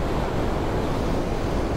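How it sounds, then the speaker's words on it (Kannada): Abbi waterfall at Magajahalli roars as a dense, steady rush of falling water, loud and close with no break or voices. "ಬೋರ್ಗರೆಯುತ್ತಿರುವ ಅಭಿ ಜಲಪಾತ"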